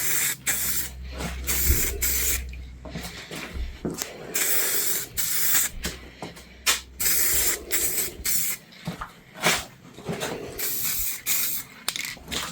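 Aerosol primer sprayed onto a car wheel for a Mk3 Golf GTI, a close hissing spray in repeated short bursts and longer passes with brief pauses between.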